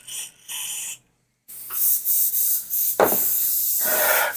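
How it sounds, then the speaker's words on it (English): Aerosol spray paint blasted onto a miniature figure, several short bursts of loud close hissing, then a longer continuous spray with small pauses. "So I'll just give that a quick blast through with a spray as well."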